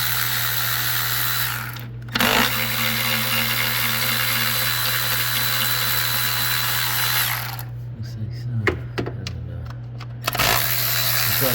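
A power tool breaks loose intake bolts on a 2011 Ford Escape 3.0 engine, whirring steadily up close, with a short break near the start and a choppier stretch of stops and restarts later.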